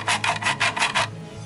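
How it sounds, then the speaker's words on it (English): A hand file rasps down plastic lumps on a Ford F150 cup holder, about five quick, even back-and-forth strokes, close and fairly loud. "file those lumps down so I can drill a better hole."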